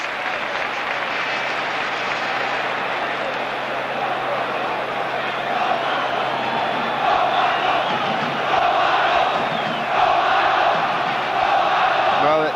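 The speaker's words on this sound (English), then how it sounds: "to have your name chanted, as Romano was then, in this vast bowl of a stadium" A vast stadium crowd at a 1980s Serie A match between Napoli and Inter chants footballer Romano's name, a dense continuous roar of voices that swells louder in the second half and carries rhythmic pulses.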